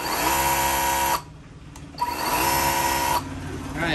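Dekton Gen2 Pro brushless battery pressure washer runs loud and steady, its motor whine dropping out briefly twice and restarting, with no talk over it.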